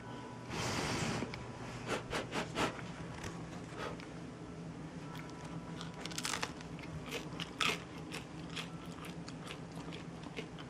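Crusty, crunchy homemade sourdough bread is bitten and chewed up close, with a sharp crackling first bite followed by a quieter rhythm of crunchy chewing and scattered crisp crackles.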